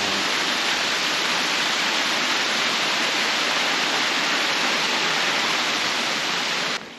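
Small creek spilling off a cliff edge on a rainy lakeshore hike, a steady broadband rush of falling water, loud and close, continuous with no breaks until it cuts off at the very end.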